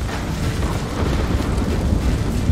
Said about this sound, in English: Oh my gosh, he got struck by lightning.